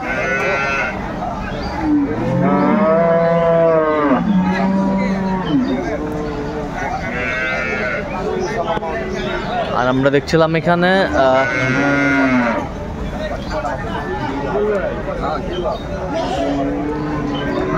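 Dairy cows and calves at the Aftabganj cattle market in Dinajpur, bleating and lowing calls rising and falling repeatedly over a steady crowd murmur, with someone talking throughout.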